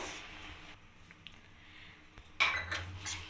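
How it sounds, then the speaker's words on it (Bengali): Spinach paste with coriander leaves worked in a kadai with spices: a quiet scraping stir, then a few sharper metallic clinks of the utensil against the pan near the end. "আমি ধনে পাতাটা এবার পালং শাক এবং মশলার সাথে ভালোভাবে এগুলোকে কষিয়ে নেব।"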